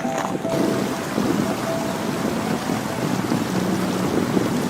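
Water pouring down an icy mountain cliff in Alberta, Canada makes a steady, loud, broad rushing roar that holds unchanged from start to end, with no talk.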